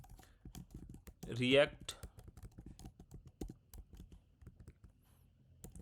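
A command is typed on a computer keyboard while setting up a React project, quiet rapid clicking keystrokes running throughout under a voice speaking, with a brief louder vocal burst early on.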